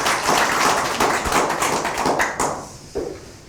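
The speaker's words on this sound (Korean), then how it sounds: "큰 박수로 환영해 주시기 바랍니다" An audience claps in welcome for a lecturer at a council training session, a dense burst of applause that thins out and stops after a few seconds, ending with a lone thump.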